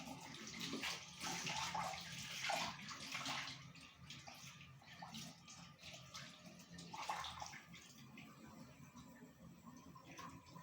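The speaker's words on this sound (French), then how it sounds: "Rincez bien partout." Running shower water rinses through shampooed hair in a bob cut, a close splashing hiss that swells and fades as the stream moves over the head, with uneven surges and no talking.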